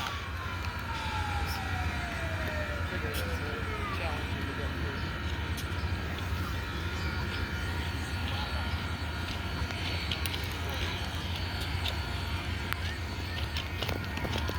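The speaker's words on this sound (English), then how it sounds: "there's the ambulance that we've been waiting on" A siren wails faintly in the distance, its pitch gliding down, under steady background noise and occasional voices.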